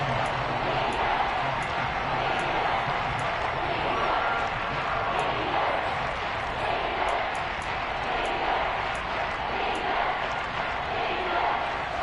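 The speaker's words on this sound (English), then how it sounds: "this red zone is where the Seahawk crowd really makes it tough for an offense to communicate" Steady roar of a Seahawks stadium crowd in the football video game Madden during a red zone play, a continuous dense wash of noise with faint commentary underneath.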